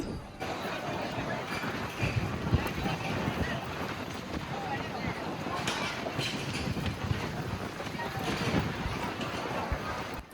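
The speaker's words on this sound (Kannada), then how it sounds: "ಒಂದೇ ಸಲ ಗಾಳಿ ಬೀಸ್ಲಿಕ್ಕೆ ಸ್ಟಾರ್ಟ್ ಆಯಿತು" Strong wind buffets the microphone on a boat at Triveni Sangam in Prayagraj, a constant loud roaring rumble that lasts throughout, with voices partly buried beneath it.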